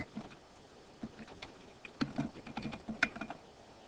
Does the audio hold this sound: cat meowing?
no